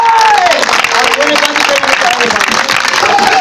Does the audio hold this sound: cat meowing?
no